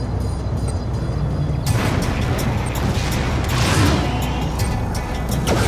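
Heavy, sustained rumbling from the Tacitus self-destruct explosion in a video game: a loud, broad roar that surges in partway through and keeps churning for several seconds.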